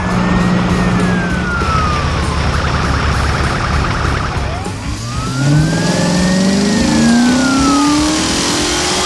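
Heavy construction vehicles, including a blue tractor, excavators and dump trucks, arrive at a snowy scene with loud engines revving and a siren wailing up and down over the rumble.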